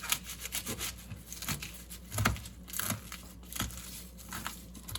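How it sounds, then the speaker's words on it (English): A kitchen knife slices through organic curly kale on a cutting board, giving repeated crisp rasping and crunching strokes with soft thuds, close and moderately loud, in an irregular rhythm with no talking. "Okay, so I'm going to take the knife. Just going to cut it."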